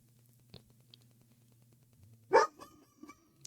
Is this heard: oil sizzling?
no